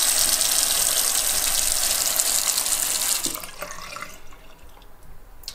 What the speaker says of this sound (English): And then we want to turn on the water